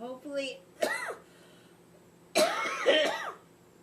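A person coughs in short, harsh bursts close by, a couple of quick coughs followed by a longer, heavier fit after a pause.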